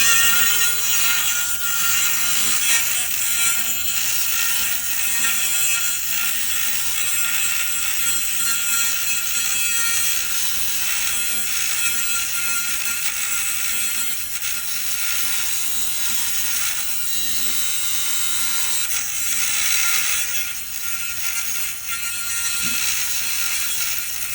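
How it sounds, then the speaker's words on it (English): A Dremel rotary tool cuts a notch during an AltoSham TH300 screen replacement, a loud, continuous high-pitched grinding whine held close up with slight rises and dips in pitch throughout. "So I have my Dremel here. I am going to cut this out."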